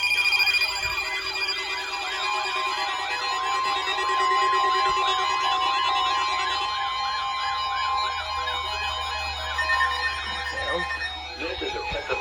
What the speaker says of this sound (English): This is a test of the weather radio's warning device.